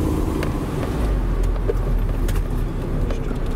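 A Toyota MR2 MK2 with automatic transmission cruising in normal mode, steady engine and road noise from inside the cabin with smooth, subtle gear changes.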